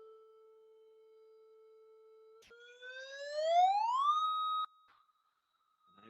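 A pure electronic test tone from a sound source holds steady at a low pitch, then sweeps smoothly upward to a higher pitch and cuts off, leaving a faint hum; faint and isolated.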